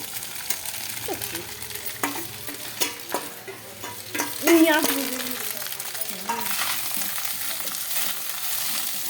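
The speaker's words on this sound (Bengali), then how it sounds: "আর এর মধ্যে এই সব সবজিগুলো দিয়ে দিব।" Vegetables being stir-fried into fried rice in a pan: a continuous sizzle with irregular scrapes and clatters of the spatula, moderately loud and close, without talk.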